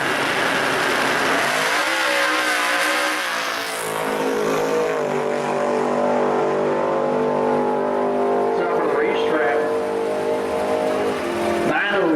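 A 1957 Chevy pickup drag-launches down a pro street strip, its engine roaring loud and near and climbing in pitch through the gears, then fading as it pulls away at speed.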